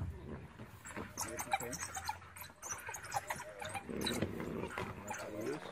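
African wild dogs growl and snarl in rough bursts, close by, while menacing a leopard in a tree, with a calm voice speaking over them.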